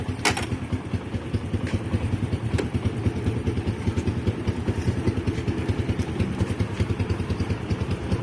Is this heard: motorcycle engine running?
yes